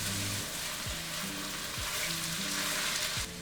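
Minced garlic sizzles in a hot pan with browning meat for chili, a steady dense frying hiss with a few stirring scrapes, close and continuous, no talking.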